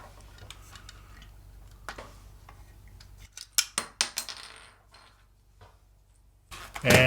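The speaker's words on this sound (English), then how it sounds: "let's see if we can kind of separate the two halves of the toy" Two plastic halves of a Dance N' Rescue Spidey toy are pried apart, giving a run of sharp clicks and cracking snaps, loudest in a burst midway, ending with a louder scrape and rustle.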